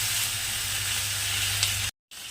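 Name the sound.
spice masala sizzling in hot oil in pan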